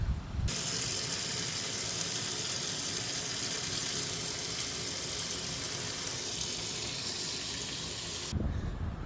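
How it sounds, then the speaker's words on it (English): Hot water gushes steadily from a tap into a sink, a dense continuous splashing hiss that starts abruptly, runs for about eight seconds close by, then cuts off. "I'll go inside now and do it at hot water sink"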